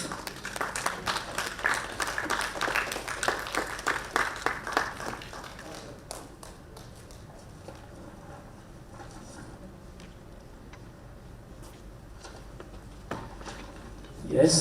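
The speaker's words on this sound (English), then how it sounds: "May I request the audience to give a big round of applause" Audience applause at a conference session, a moderate burst of clapping in the first several seconds that thins to scattered claps and quiet room noise, with faint talk and a louder thump at the very end.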